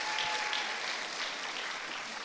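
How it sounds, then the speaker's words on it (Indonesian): An audience at a sharing session welcoming the Vice Governor of East Java breaks into applause, a brief, steady wash of clapping at moderate loudness with no one speaking over it. "Tepuk tangan dong."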